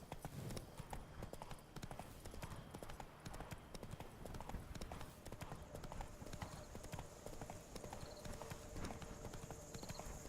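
Steady clip-clop of Roach the horse's hooves in The Witcher 3, a continuous rhythmic trot close up over ambient game sounds, with occasional brief snorts and no talk.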